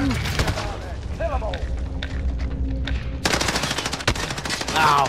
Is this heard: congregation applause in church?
no